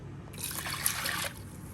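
Water is poured over broken wheat in a cooking pot, a steady trickling splash lasting about a second and close by, with quiet room tone before and after.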